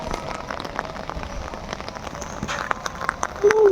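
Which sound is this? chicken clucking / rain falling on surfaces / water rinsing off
rain falling on surfaces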